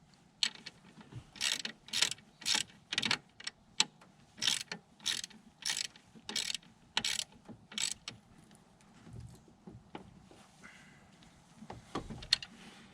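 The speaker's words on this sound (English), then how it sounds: "Wrench." Ratchet wrench clicking on a bolt on a 1998 GMC/Chevy C/K 1500 alternator, a dozen or so quick rhythmic back-and-forth ratcheting strokes, close and clear, then slowing to a few scattered clicks.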